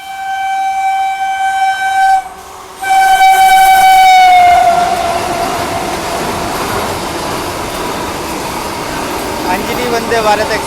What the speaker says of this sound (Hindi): अंजनी वंदे भारत एक्सप्रेस